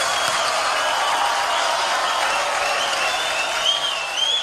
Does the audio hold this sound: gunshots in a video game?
no